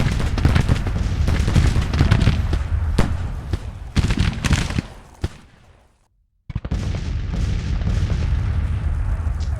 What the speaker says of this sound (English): We are harassing that artillery battery